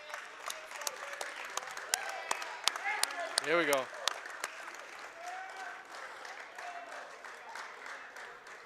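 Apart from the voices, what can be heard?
crowd applause at a basketball game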